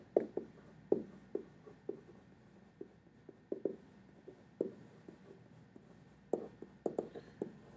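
Pen or pencil scratches on paper as math notes are written by hand, giving quiet, irregular strokes and taps close by with short pauses between. There is no talk.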